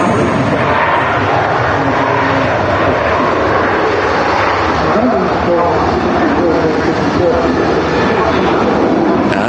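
Qatar Airways Boeing 777 with twin GE90 engines landing at Manchester Airport, a loud, continuous broadband jet roar that rumbles steadily without letting up, heard from nearby with no clear breaks.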